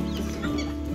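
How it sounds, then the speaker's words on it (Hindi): Chickens and a rooster on a farm, soft close clucking and low throaty calls overlapping in a short burst, fairly quiet. "मुर्गा है"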